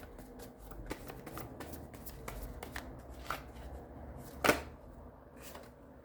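Oracle cards are shuffled by hand in a quiet room, a soft, close run of riffling and tapping with a sharper slap near the end.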